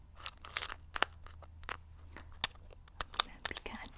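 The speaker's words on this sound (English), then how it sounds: "I'll be kind of chewing on them and stuff as I talk." Close, crisp crunching of small hard mints from a Legend of Zelda tin, bitten and chewed in sharp irregular cracks with soft quiet gaps between them.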